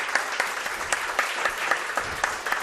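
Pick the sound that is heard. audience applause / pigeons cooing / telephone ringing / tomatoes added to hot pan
audience applause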